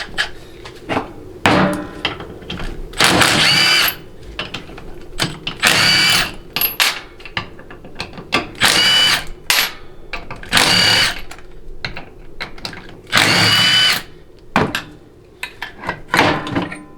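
A power tool on a 4L60E transmission pump spins off 13 mm pump-half bolts in loud, repeated buzzing bursts, each a second or so long, separated by clanks and rattles of metal parts close by.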